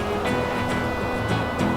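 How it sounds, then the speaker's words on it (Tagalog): A clear mountain stream with a strong current rushes in a steady, close wash of flowing water with no pauses. "may mga running water dito, pero kukunti lang, pero mukhang malakas ang agos"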